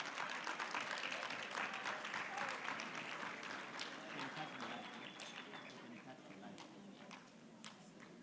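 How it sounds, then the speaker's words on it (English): A conference hall of veterinary colleagues gives a sustained round of applause as dignitaries depart, steady clapping from many hands that slowly thins and softens toward the end. "So let's give them a good round of applause,"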